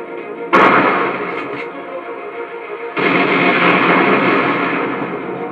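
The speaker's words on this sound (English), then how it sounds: "Enough explosions." Explosions go off in the video game Turok 2: Seeds of Evil. Two loud, booming blasts each roll into a long, echoing rumble that fades slowly.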